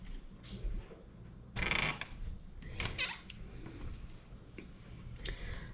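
A bathroom door in a treehouse swings open with creaks and a few knocks and clicks from the latch and hinges. It is close but fairly quiet, with no talking.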